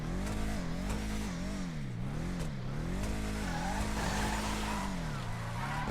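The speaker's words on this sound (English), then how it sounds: "let's actually test out how this car performs in a straight line or in a drag" A Bravado Gauntlet Classic muscle car accelerates in a straight-line drag test in GTA Online, its engine revving up and dropping repeatedly through gear shifts, loud and close, with a tire squeal and roar building toward the end.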